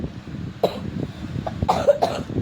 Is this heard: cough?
yes